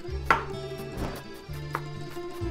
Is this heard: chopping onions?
yes